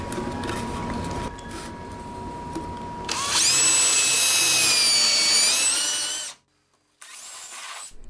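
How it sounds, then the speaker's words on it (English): A power drill spins up and bores a 1/4-inch hole through a board backed by a sacrificial board, starting low then rising to a loud steady whine as it cuts. It stops abruptly, goes silent, then revs again. "Now I'm drilling holes so I can get the jigsaw blade started"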